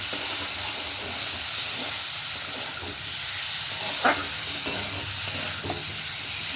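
Spice masala being sautéed in a pan over a gas flame, a loud, steady sizzle and steamy hiss with a few faint stirring scrapes, close by and without speech.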